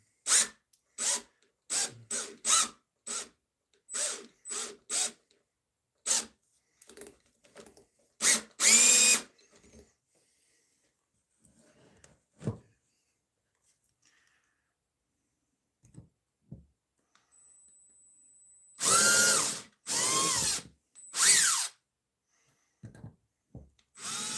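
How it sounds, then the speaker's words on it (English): A power drill whirs in a series of short bursts, several quick pulses early on, then a quiet stretch before a few longer, louder runs. "I forgot to put the drill bit in"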